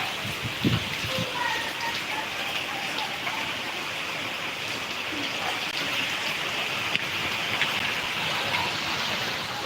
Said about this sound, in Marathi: रात्रभर मुसळधार पाऊस चालू आहे